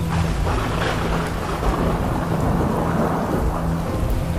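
A cartoon-style thunderstorm sound effect with heavy rain: a dense, steady downpour roar with low thunder rumbling underneath, loud and continuous throughout, no voices.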